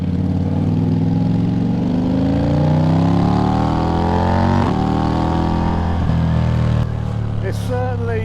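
A Ducati V4 Diavel motorcycle fitted with a full Akrapovic exhaust revs up hard, its deep engine note rising in pitch and then dropping sharply in blips, loud and close, with no one speaking.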